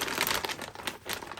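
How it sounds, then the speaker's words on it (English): A plastic bag of frozen chicken wings crinkles and crackles up close as scissors cut into it, in quick uneven bursts. "get a pair of scissors and get into your frozen"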